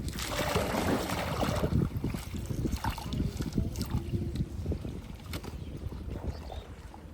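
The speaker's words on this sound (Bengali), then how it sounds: "আগে নৌকাটা ঠিক মতো চালা বেটা।" A small boat being rowed on open water under a hot sun, with irregular splashes and paddle strokes close by over steady wind noise.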